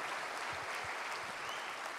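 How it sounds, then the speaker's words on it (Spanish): A church congregation applauds in a steady, even wash of clapping that fills the space at moderate volume throughout. "Let's give the Lord an applause."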